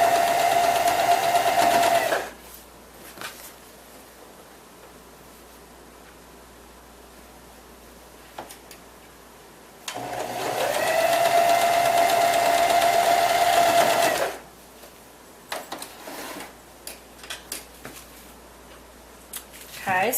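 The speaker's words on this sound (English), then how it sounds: "I'm sewing the top rows. Just using a 1/4-inch seam." Sewing machine stitching quilt block rows with a quarter-inch seam, running in two steady bursts of about two and four seconds separated by quiet handling and rustling of fabric.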